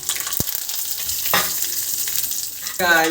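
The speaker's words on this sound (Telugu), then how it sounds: "ఇప్పుడైతే ఆయిల్లో ఫ్రై అయిపోయింది కదా రెడ్ మిర్చి వేసుకోవాలి అండ్ కరివేపాకు" Red chillies and curry leaves hit hot oil in a pan for a tempering, giving a close, crackling sizzle with sharp pops and a few louder bursts of spattering, with a strong flare of sizzle right at the end.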